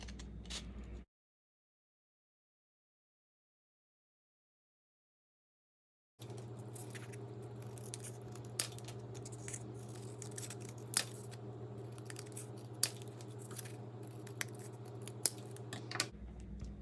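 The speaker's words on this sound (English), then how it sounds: "Now you're going to cut it into equal sections." Scissors cutting a cardboard tube into equal sections, with a brief snip, a stretch of silence, then steady close crunching and clicking cuts over a constant low hum.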